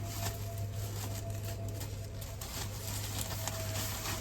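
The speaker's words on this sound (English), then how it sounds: "it's absolutely chucking it down the rain now" Heavy rain pours down outdoors as a steady, dense hiss that holds evenly throughout, with a constant low hum running beneath it and no voices.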